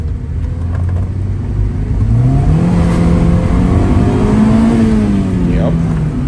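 A Honda Civic VTi with a D16Y8 engine revs hard through a first gear pull on a dyno, its pitch climbing steadily and loudly, then holding high before a brief tire-spin chirp near the end.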